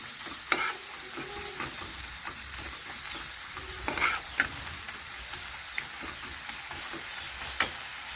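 Salt is stirred into a spicy fish curry sizzling in a pan: a soft, steady hiss with a few sharp scrapes and taps of the spoon, quiet and close, with nobody talking.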